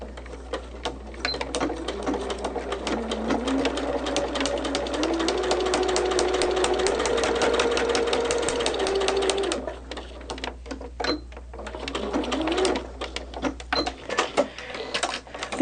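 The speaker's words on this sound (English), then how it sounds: "So I'm going to sew that real quick" A sewing machine stitches quilt block pieces in a steady, fast mechanical whir that runs for several seconds, then breaks into short irregular bursts of stitching with brief pauses, close and fairly loud with no talking.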